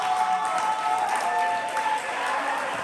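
An audience at an Atlanta spring poetry slam applauds the poets, a dense, even burst of crowd clapping that runs steadily the whole time.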